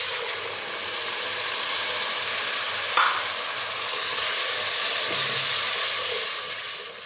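Tomato paste hits hot oil for daal mash, giving a steady, bright sizzle and frying hiss that runs throughout, with a brief stirring scrape partway through.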